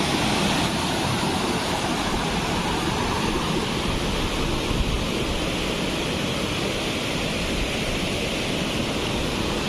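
Barabakhra waterfall pouring over a cave, a dense, continuous roar of falling water, loud and close, steady throughout with no voices.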